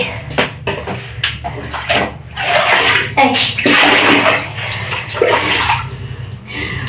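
Warm bath water pours and splashes over a dog during a bath. The gushing comes in uneven bursts with small knocks, and a woman's brief exclamations are heard over it.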